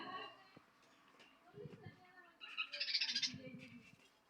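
Budgerigars chatter and squabble in harsh, rapid bursts of chirps, growing louder toward the end, with a low voice murmuring underneath.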